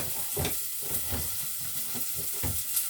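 Chopped, sliced onions sizzling in a pan while being stirred, a steady frying hiss broken by rhythmic scraping strokes of the spoon, close and moderately loud, with no talking.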